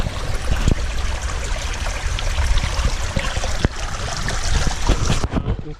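Water trickles and splashes steadily close by as it exits an aquarium trickle filter, a continuous wet babble with a few sharper drips.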